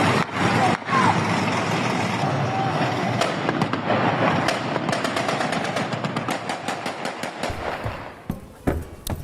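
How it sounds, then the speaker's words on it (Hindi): Dense bursts of celebratory gunfire crackle from people riding a tank in Syria, heavy and continuous at first, then thinning into scattered sharp shots and short volleys, with crowd noise and a vehicle rumbling underneath. "टैंक पर सवार होकर फायरिंग करते हुए नजर आ रहे लोग"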